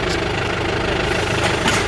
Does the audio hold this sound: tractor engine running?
yes